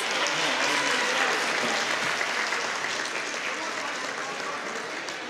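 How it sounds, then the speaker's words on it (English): A city State of the City gathering breaks into steady audience applause, a dense, moderately loud patter of many hands that continues evenly and tapers a little toward the end. "Let's give all of them a round of applause."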